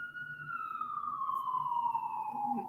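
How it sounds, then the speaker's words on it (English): A wailing siren holds one long tone that slowly falls in pitch, steady and fairly loud throughout, with a low background rumble beneath it. "sorry about the siren."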